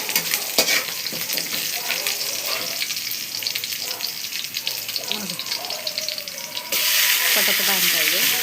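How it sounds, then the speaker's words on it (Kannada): Garlic and chili sizzle and fry in hot oil while being stirred, a steady crackling hiss with occasional scraping of the utensil, growing louder and brighter near the end. "ಬೆಳ್ಳುಳ್ಳಿ ಹಾಕ್ಕೊಂಡು ಸ್ವಲ್ಪ ತಿರುಗಬೇಕು. ಅದನ್ನ ಎಣ್ಣೆಯಲ್ಲಿ ನೀಟಾಗಿ ಸ್ವಲ್ಪ ಮೆಣಸಿನ್ಕಾಯಿದು ಸ್ವಲ್ಪ ಇದಾಗಬೇಕು"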